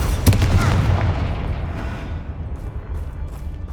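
A Bombarda spell explosion in Hogwarts Legacy on PS5: one loud, close boom with a sharp crack at the start, then a long rumbling decay that fades over a few seconds.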